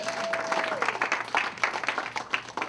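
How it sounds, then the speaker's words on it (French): A church congregation applauding during a sermon, a dense burst of clapping from many hands filling the room, with a brief vocal tone at the start. "Acclamons cette parole de Dieu."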